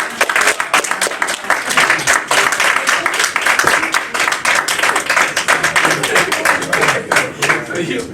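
A hall audience breaks into warm clapping to welcome a minister, with uneven hand claps coming in bursts, fairly loud and close, and voices calling out over them.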